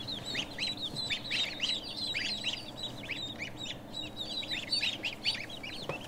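Young ducklings in a brooder chirp and peep rapidly and continuously, many high thin calls overlapping at close range with no speech.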